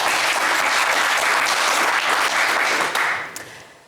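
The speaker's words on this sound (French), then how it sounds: "mais on vous applaudit très fort." Studio audience applause for a contestant on the game show Le Coffre Magic, loud dense clapping from many hands that holds steady for about three seconds, then tapers and fades out.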